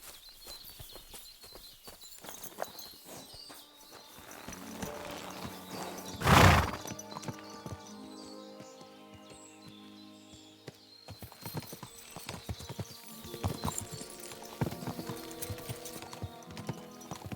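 Horse hooves clip-clopping in Kingdom Come: Deliverance 2, a steady walking rhythm with a loud whinny midway, game music and ambience beneath, no talk.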